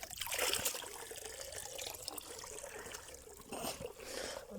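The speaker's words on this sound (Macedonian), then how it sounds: "Тоа вода, кај течи бога водата?" Water trickles down a mountainside in a steady, fairly faint wash of bubbling flow with no one talking, the splashy texture swelling slightly near the end.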